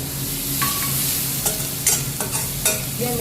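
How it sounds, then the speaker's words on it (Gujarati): Chopped onions sizzle steadily in hot oil with hing and cumin, with repeated scraping stirs of a spoon in the pan, close and clear, no voices. "ડુંગળી સોતળાઈ છે"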